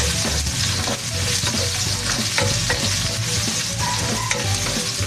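Six garlic cloves sizzle steadily in hot frying oil while being stirred with a utensil, a loud continuous frying hiss with occasional scraping clicks throughout.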